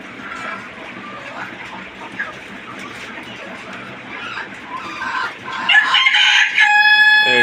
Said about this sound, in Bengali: এই যে আরেকটা মুরগি ডিম পারছে।